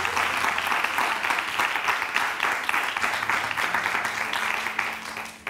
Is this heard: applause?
yes